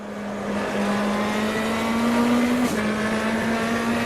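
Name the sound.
race car engine in racing video game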